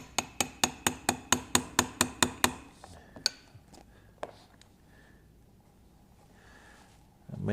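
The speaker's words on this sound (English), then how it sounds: "Take your 1/8 inch punch and tap it down gently." Roughly ten even, sharp metal taps of a 1/8 inch punch on an Easywood chuck come in a quick steady run. A few scattered clicks follow, then quiet handling noise, with no talk.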